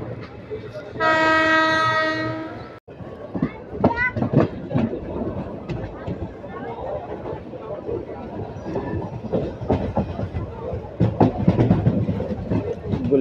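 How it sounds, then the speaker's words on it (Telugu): The Bidar intercity express sounds a long, loud horn blast, then runs on with rattling wheel clatter and rhythmic clicks over the rails, heard from aboard the train. "గుల్లగూడ వికారాబాద్ దాటిన తర్వాత మన ట్రైన్ వెళ్ళి ఆగింది గుల్లగూడలో"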